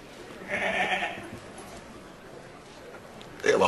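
A sheep bleats once, a wavering nasal call, followed by a quieter stretch of background noise and a brief sharp sound at the end.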